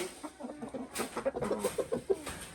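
Several chickens cluck in a close, busy stream of short calls during feeding time on a farm, with no talking over them.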